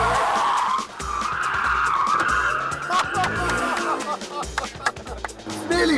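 Car skidding through a handbrake turn after hard acceleration in second gear, a loud engine roar with tire squeal sweeping across the surface, then scuffing and gravelly scrapes as it slows, with speech in the background.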